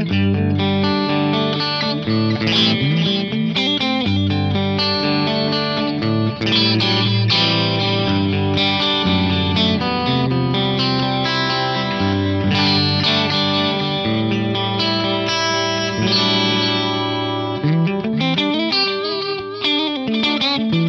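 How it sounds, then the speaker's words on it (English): Electric guitar run through a dual delay with the two repeats slightly offset for a wide stereo spread, playing continuously for about twenty seconds with a dense, echoing, slightly driven tone and no talking. "You'll go from this mono delay sound to really wide delay sound."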